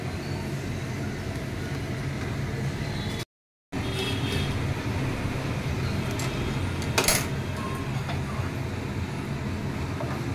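Cashews, almonds and raisins fry in a pan with a steady dense sizzle and a few clinks, briefly cut to silence once.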